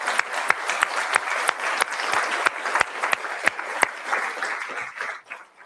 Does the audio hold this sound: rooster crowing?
no